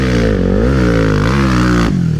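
A trail motorcycle on a hill climb revs hard and close, its engine pitch rising and dipping through several throttle surges before dropping off near the end.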